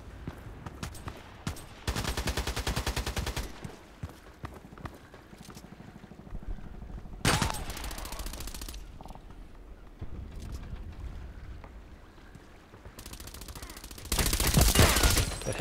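Gunfire in a sniper-focused shooter video game comes in several loud, dense rapid bursts separated by quieter gaps with faint background game noise.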